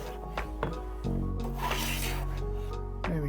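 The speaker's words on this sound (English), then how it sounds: "so I'll just do some short shavings on this side." A hand plane takes a few short shavings off a wood board's edge while edge jointing, giving close, brief rasping strokes with hollow scrapes between them.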